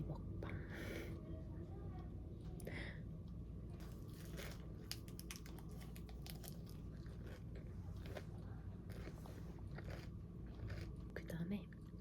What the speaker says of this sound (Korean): 항암 주사를 맞으면서 하는 쌈 싸먹기 먹방